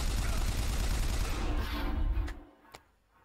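Turret gunfire in the video game BioShock Infinite, a dense, loud burst of continuous shots for over two seconds that cuts off abruptly, followed by a couple of sharp single cracks and quiet.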